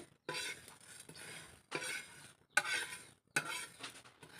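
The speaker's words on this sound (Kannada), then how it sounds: "ಕೊತ್ತಂಬರಿ ಬಡೆ ಜೀರಿಗೆ ಹಾಗೂ ಜೀರಿಗೆ ಮಿಕ್ಸ್ ಮಾಡಿ ಹುರ್ಕೊಳ್ತಾ ಇದ್ದೇವೆ" Coriander seeds, cumin, garlic and chillies dry roasting in a pan with no oil, heard as four separate bursts of scraping stirring with light sizzle and faint utensil clinks, close and fairly quiet, with short pauses between.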